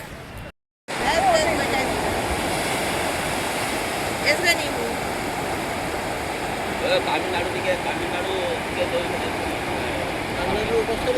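Sea surf at Puri beach rolls in as a steady, broad wash of breaking waves close by, filling the whole clip after a brief cut near the start, with faint voices and a few small clicks over the roar.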